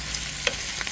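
Lechon pork sisig sizzles in a pan as it is stirred, giving a short burst of steady frying hiss with a faint scrape of the utensil.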